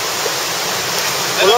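River waterfall at Salto de los Bueyes in Sosua, a loud, constant roar of rushing, splashing water filling the scene, close and unbroken, with a brief extra splash near the end.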